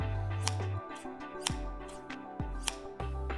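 Japanese Doukan 0105 garden shears open and snap shut several times, each close landing as a sharp metallic clack with a brief ring, spaced about a second apart.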